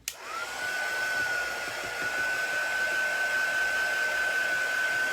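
A hair dryer dries a chalk craft project, starting with a click and then running as a steady, close, loud whoosh with a constant whine that lasts throughout.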